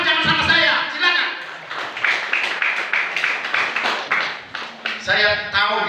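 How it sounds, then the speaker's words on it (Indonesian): Church congregation clapping in rhythmic bursts, moderately loud, mixed with voices speaking and calling out over and around the applause. "Tepuk tangan buat Tuhan, jangan sama saya."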